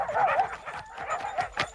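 A dog that has just had puppies barks and whimpers in a short run of yips, close and fairly loud, with a sharper bark near the end.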